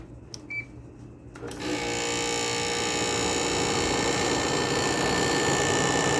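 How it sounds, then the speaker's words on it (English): An air conditioner's loud compressor kicks on after a couple of seconds of quieter hum, then runs steadily with a loud, buzzing drone. "I forgot this air conditioner here is a pretty loud compressor."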